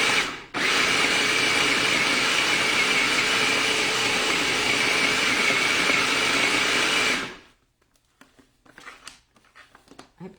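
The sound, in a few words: food processor running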